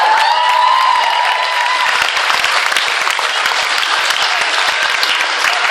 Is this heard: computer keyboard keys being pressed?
no